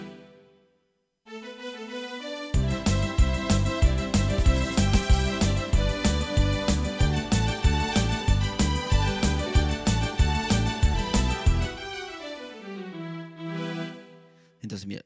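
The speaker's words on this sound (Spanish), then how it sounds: "Y entonces suena así el chamber." A Yamaha PSR-340 keyboard on its chamber strings voice with dual and harmony enabled plays a loud rhythmic accompaniment pattern of repeated chords, then ends with a softer sustained fading phrase.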